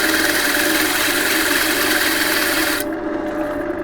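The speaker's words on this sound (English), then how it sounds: "use this board to then do exactly the same to sand the top" A board rubs across the top of a wooden segmented vase, a steady close-up rasping sand that runs continuously before the high hiss drops away near the end.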